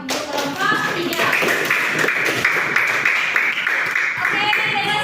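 A junior high school class applauds a student group, the clapping dense and steady throughout, with children's voices mixed in under the noise.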